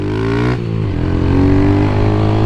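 A Honda Fan 150 motorcycle engine revs hard and close, its pitch dipping briefly before climbing and holding a loud, buzzing drone.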